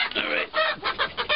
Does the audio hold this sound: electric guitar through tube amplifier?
no